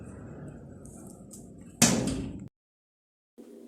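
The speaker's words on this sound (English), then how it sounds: "Go inside and shut the door." A house door is shut with one sharp, loud bang that decays over about half a second, followed by near silence and then faint room noise.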